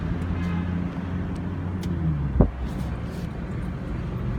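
A car rolls along a street in Hamtramck, Michigan, a steady engine and road-noise rumble heard from inside, with a brief thump midway and traffic sounds around it.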